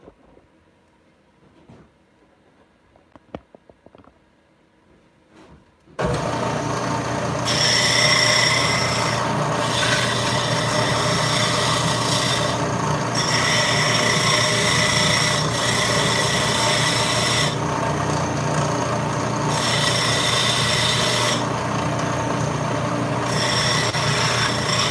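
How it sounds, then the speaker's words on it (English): A power sander trims plastic off an IH 9370 model tractor part: after about six seconds of near silence it starts up loud and runs steadily, a broad grinding rasp with brief shifts in pitch as the piece is pressed against it. "I'll show you how I'm going to do that on my sander."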